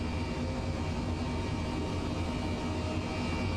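An H135 helicopter engine in Microsoft Flight Simulator gives off a loud, steady broadband whine and rumble. It holds without a break and has no talk over it.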